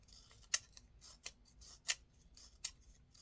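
Scissors snip thin slits into cardstock in four or five crisp, separate cuts spaced roughly half a second to a second apart, each a short sharp snap at close range with quiet pauses between.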